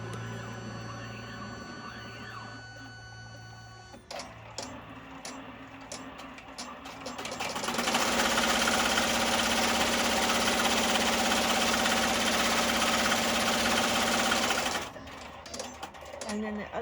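Embroidery machine stitching an in-hoop fabric face mask, a steady loud mechanical whirring hum that builds midway and runs for several seconds before stopping, with quieter machine noise and faint voice around it.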